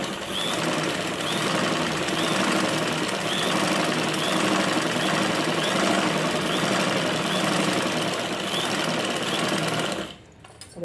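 A sewing machine runs steadily while stitching a lining blouse, a continuous close whirring hum with a faint regular tick, stopping abruptly near the end.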